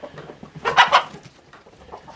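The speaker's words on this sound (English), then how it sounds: "I got too many roosters for a few hens" Roosters and hens in a barn lot cluck close by, with a short burst of louder squawking clucks in the middle and softer clucks before and after.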